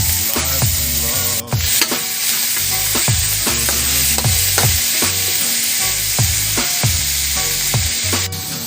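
Meat sizzles loudly in a hot pan, with a dense, constant frying hiss and a regular series of scraping stirring strokes, close up, with no voices.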